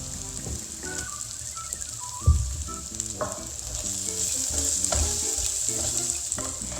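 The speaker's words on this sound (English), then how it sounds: "And then you add the fried gnocchi back into the pan." Squash and purple yam gnocchi fry in a pan, a steady close sizzle with occasional stirring scrapes and clinks, no voices.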